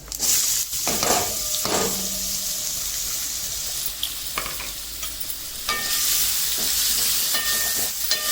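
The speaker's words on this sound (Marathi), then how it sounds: "त्याच्यामध्ये आता ही कैरी टाकून घेते फोडणी चांगली खमंग करून" Raw mango pieces frying in a hot tempering of fenugreek and fennel seeds give a loud, continuous sizzle, broken by sharp scraping stir strokes of a spoon against the pan.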